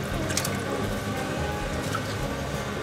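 Water from a can poured into a cooking pot of chicken, rice and pineapple-mango curry, a steady continuous splashing gush filling the whole moment without pause.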